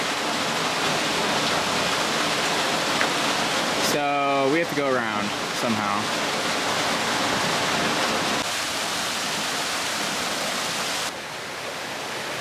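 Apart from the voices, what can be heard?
water pouring off rock into icy water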